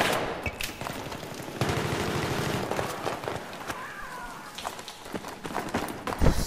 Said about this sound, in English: I see shooting everywhere.